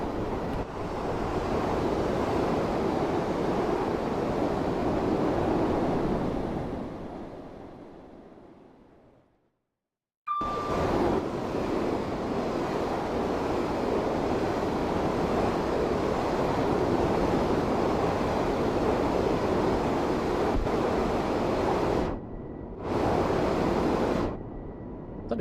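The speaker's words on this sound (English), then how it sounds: "let you listen to the train" A Class 385 electric train runs on the Edinburgh–Glasgow line in Train Sim World 3, giving a steady, loud rushing roar that fades out, pauses in silence, then resumes unchanged with a brief dropout later.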